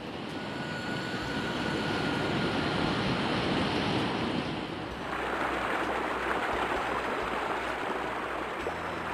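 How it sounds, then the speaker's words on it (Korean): Guryong Falls at Mount Kumgang pours down in autumn, with clear stream water running below. The sound is a loud, continuous broadband rush of falling and flowing water that shifts slightly in tone partway through. "장쾌한 폭포 소리와 담소들로 흘러내리는 맑은 물소리는 정말 단풍 계절의 풍치를 한껏 또 돋궈주고 있습니다"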